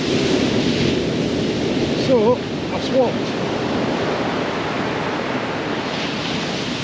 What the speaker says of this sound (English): Some massive waves coming in now though. Look at the size of them.